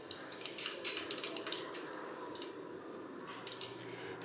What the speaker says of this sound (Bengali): এরপর এতে দিচ্ছি 1/2 চামচ মতো সর্ষে।